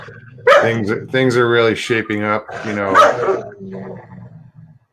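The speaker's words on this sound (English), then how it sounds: "that's my dog and my kids arguing." A dog barks and yips intermittently at home, mixed in with children arguing and someone talking close up over them.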